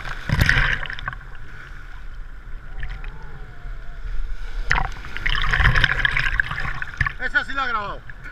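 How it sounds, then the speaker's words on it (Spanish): Small sea waves wash and splash at a beach in soft, irregular surges. People talk and move around in the water nearby. "hay muchas olas pero no son grandes."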